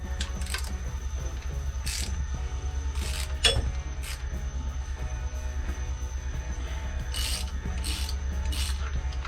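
A pulley being unscrewed from a boat engine, with a steady low hum under repeated metallic rasping and ratcheting clicks and one sharp clank partway through.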